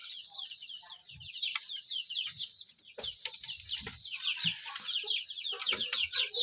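Domestic chickens clucking and chattering in a poultry pen, with a sick, drowsy hen among them; a steady layer of soft, overlapping calls with a few brief low thumps and rustles, fairly close, no talk.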